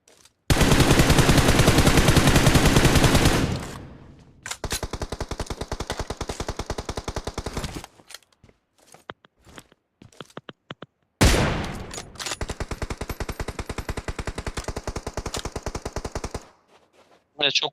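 Long loud bursts of automatic gunfire in PUBG Mobile, two extended volleys separated by scattered single shots and a short gap, with players talking faintly between them.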